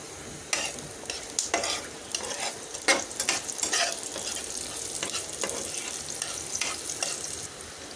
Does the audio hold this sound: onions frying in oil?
yes